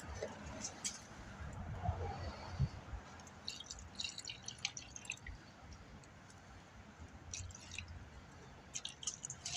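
Fuel drips and splashes through a funnel into a fuel-injected Suzuki Bandit motorcycle's tank, a quiet run of small irregular drips and wet squishes up close.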